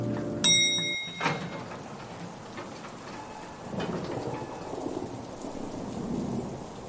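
Steady rain patters and hisses against windows close by, with a rumble of thunder and a few sharp knocks near the start.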